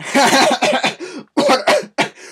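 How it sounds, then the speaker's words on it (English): A voice chuckles and then coughs several times in quick bursts, with some throat clearing, loud and close. "he chuckled and coughed"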